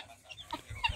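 Free-range chickens in a wide pen clucking briefly, a few short soft clucks close by in a quiet yard.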